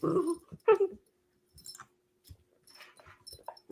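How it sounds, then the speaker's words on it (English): A single dog gives a few short barks and whimpering yips with pauses between, fairly close, alone without talk. "Barking."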